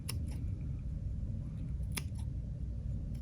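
Scissors snip through the yarn ends of a handmade Ojo de Dios weaving, a couple of sharp, close clicks over a steady low background hum.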